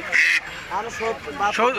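Domestic geese at a village poultry market in Bangladesh, giving several short nasal honks in quick succession, close and loud, with one brief higher call first.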